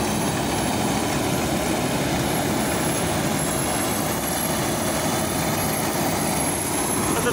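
A Niva combine harvester works through dense, lodged wheat, a loud, steady broadband roar of engine and threshing machinery that holds constant and close throughout, with no clear speech.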